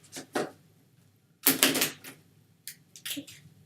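Deck of playing cards being shuffled, several short papery riffles and flutters in separate bursts, close and moderately loud with no voice.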